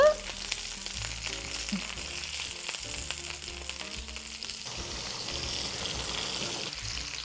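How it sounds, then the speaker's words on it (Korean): Thin slices of beef brisket (chadolbagi) frying in their own fat in a pan, a continuous close crackling sizzle that stays loud and even throughout, with no one talking. "고기는 한 요 정도 빛깔 나오게 구워주시면 좋아요."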